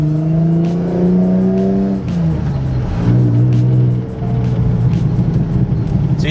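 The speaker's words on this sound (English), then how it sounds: "that's why I'm trying to see if I can downshift today" A BMW 330i engine revs up and settles repeatedly during a manual downshift attempt, a loud steady drone that swells, dips around the two- and four-second marks, then climbs again, close to the microphone.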